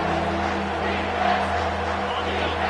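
A stadium crowd in a Madden football video game roars steadily throughout, a loud, sustained wash of cheering with no clear breaks.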